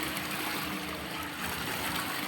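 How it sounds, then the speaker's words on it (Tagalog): Strong flow of water at a natural spring used for fetching water, a continuous rushing and gurgling wash at steady level, close by with no talk. "ang lakas ng flow ng tubig"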